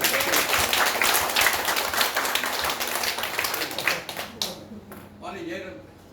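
An audience claps loudly and densely at a talk, with the applause sustained for several seconds before thinning out, and some voices mixed in.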